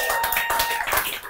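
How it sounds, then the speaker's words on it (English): A crowd applauds for a guest named Gabriel at a live business storytelling event, dense clapping filling a brief burst at steady volume without talk. "give a big round of applause for Gabriel"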